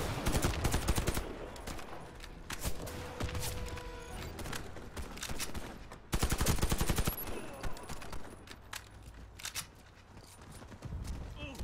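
Rapid bursts of automatic and single-shot gunfire in the video game Warface, loud and close, with sharp repeated cracks in clusters separated by short gaps.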